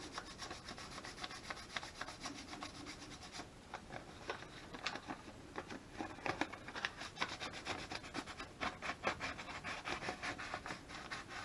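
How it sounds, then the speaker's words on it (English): A Lennox Elite furnace flame sensor rod being rubbed clean with paper money, producing continuous soft scratchy rubbing strokes, close and fairly quiet, quickening into denser rapid scraping in the second half. "just very gently, you're just going to clean the rod"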